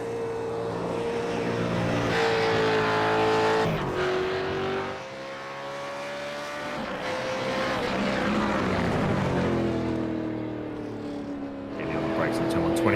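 A V8 Supercar from a sim racing game laps Circuit de Barcelona-Catalunya, its engine note climbing through gears, dropping under braking and rising again, loud and continuous throughout.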